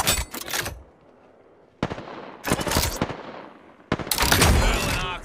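Bursts of automatic gunfire in Apex Legends crack out in rapid volleys, three loud separate bursts split by short pauses, the last one longest and heaviest.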